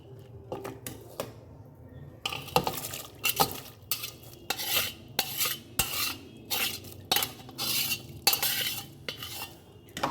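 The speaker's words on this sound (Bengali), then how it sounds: "এবার আমি এই ফুটন্ত জলের মধ্যে চালটাকে মিশিয়ে দেবো।" Rice for polao is stirred into boiling water in a metal pot, giving close, repeated rhythmic scraping and clinking strokes of a spoon against the pan over a low bubbling background, with no one speaking.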